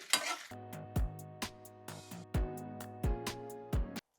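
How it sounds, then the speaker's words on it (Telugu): Dried red chillies frying on a low flame, with repeated sharp metallic scrapes and clinks of a spoon stirring in the pan over a soft sizzle, no voices. "ఇప్పుడు సిమ్లో పెడుతున్నా, సిమ్లో పెట్టి వేయించండి."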